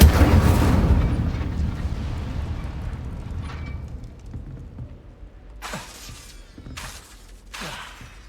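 Incendio fire spell cast in Hogwarts Legacy: a loud roaring burst with shattering crackle that fades into a low burning rumble, followed by three more sharp fiery bursts near the end.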